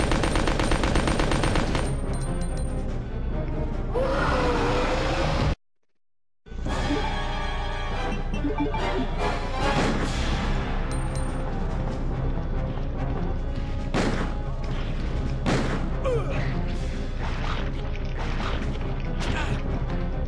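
Rapid bursts of submachine gun fire from the video game Resident Evil 2, dense volleys of shots with a brief silent gap, then more scattered sharp reports and impacts over game sounds.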